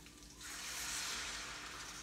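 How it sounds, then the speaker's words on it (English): Chicken broth poured into a soup pot for keto zuppa toscana, a soft steady rush of liquid that starts after a brief pause and carries on, quiet and close. "pour in the broth"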